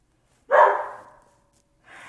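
A single sharp dog bark rings out close by, fading quickly, followed by a softer second sound starting after a pause.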